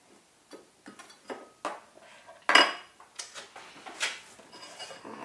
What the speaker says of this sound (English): So let's just spread some peanut butter on that.